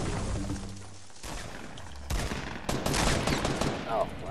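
Gunfire in an online squad shooter game breaks out in bursts of rapid shots, loud and layered over a busy background mix, with the action heating up toward the end.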